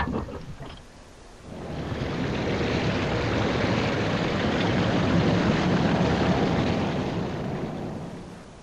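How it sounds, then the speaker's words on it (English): A broad, steady rushing roar of a waterfall in Resident Evil HD Remaster swells in after a quieter opening and holds loud and constant to the end. "Sound of the waterfall"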